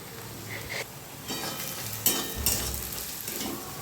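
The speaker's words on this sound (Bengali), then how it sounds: "চিনিটা দিলে পেঁয়াজটা ভালো কালারিং ভাজা হয়" Sliced onions with a pinch of sugar fry in oil for a Bengali mutton kosha, making a close, continuous sizzle with occasional spatula scrapes and clinks, and no voices.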